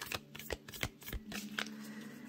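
Oracle cards being shuffled by hand, a quick run of crisp riffling flutters and soft slaps in close succession, near and clear with no voices.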